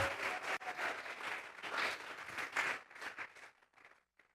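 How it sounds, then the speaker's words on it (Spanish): A church congregation gives a round of applause as an offering to God, a dense, fairly distant wash of many hands clapping that swells and then thins out into a few last claps before fading away. "Vamos a regalarle ofrenda de palmas al Dios de la gloria"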